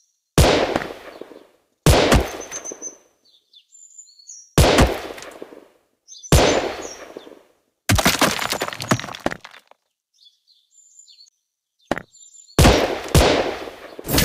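Gunfire in the shooting video game Gun Spirit comes as loud, sharp bursts of shots, each burst separated by brief silences, with no talking.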